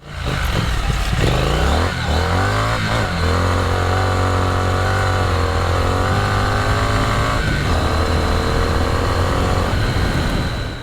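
A Triumph Scrambler 900 motorcycle engine rumbles steadily with a deep exhaust note, rising and falling slightly in pitch as it revs, continuous and close throughout.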